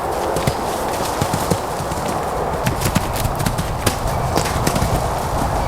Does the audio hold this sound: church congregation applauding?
no